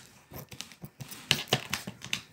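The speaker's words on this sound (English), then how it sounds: "cut it off with scissors." Several sharp snipping and crinkling cuts through packaging with scissors, irregular and close, with short pauses between strokes, while unboxing Air Jordan 1 sneakers.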